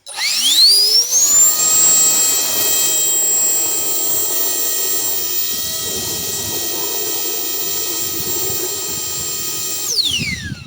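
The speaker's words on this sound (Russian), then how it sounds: "Воздуходувка просто, друзья, зачетная" A ONEVAN cordless battery-powered leaf blower blasts water out of a bucket, its motor whining up to a loud, steady high-pitched roar with churning air and spray underneath, then spinning down at the end.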